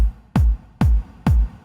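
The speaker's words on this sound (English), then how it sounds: "We want it to be a, reverberated, rumbly techno bass to make it sound like it's in a warehouse." Three deep, rumbling techno kick drums hit at a steady pace, each boom trailing off into a reverberant, roomy warehouse-like tail with no voices.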